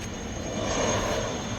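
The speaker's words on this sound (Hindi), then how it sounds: "4 धाम यात्रा के हेलीकॉप्टर्स यहीं से जाते हैं।" A Char Dham service helicopter passes overhead in the Harsil valley of Uttarakhand, its engine a steady, loud droning roar with no talk.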